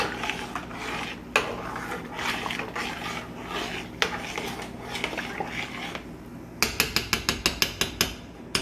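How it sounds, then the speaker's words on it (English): A spoon stirs Old Bay seasoning into a pan of crab fettuccine Alfredo, making close scraping and sloshing strokes, then a quick, even series of sharp clinks and taps against the cookware near the end. "We're gonna do about 2 tablespoons of Old Bay. 1, 2. I want to stir it up good."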